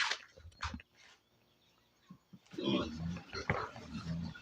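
Pigs at feeding time give short grunts and snorty oinks, a few sparse calls early then a denser burst of overlapping grunting near the end, close by.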